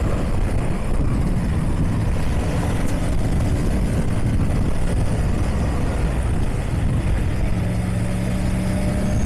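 Triumph Tiger 900 Rally Pro motorcycle engine: a loud, steady low rumble close by, continuous throughout with wind-like noise and no speech.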